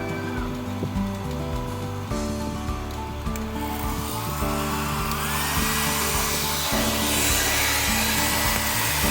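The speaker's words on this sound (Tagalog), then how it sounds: "Ito yung blower natin. Testingin na rin natin." An electric blower runs on a solar power generator under a roughly 1100-watt load test, giving a steady, loud, tonal whine that holds for the whole stretch with no talk.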